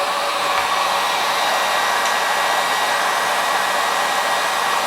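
A heat gun blows hot air onto heat shrink, a steady loud whooshing fan hiss that holds at an even level throughout, close up with no talking.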